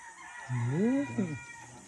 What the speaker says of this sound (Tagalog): So this is the pure white Kelso breeding na meron dito sa breeding yard ni Sir B-Boy Enriquez.